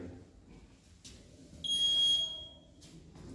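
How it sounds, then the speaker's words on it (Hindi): A smart blind stick's buzzer beeps at an obstacle with a single high, steady electronic tone held for about a second, heard fairly close over quiet room noise. "इसमें ऑब्स्टेकल आता है तो ये बीप करती"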